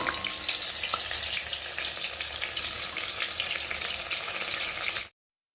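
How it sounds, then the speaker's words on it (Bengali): Eggplant fritters (beguni) frying in a karahi of hot oil give a loud, dense, continuous sizzle that cuts off abruptly at the end. "দেখো দু পিঠ ভালোভাবে ভেজে নিয়েছি"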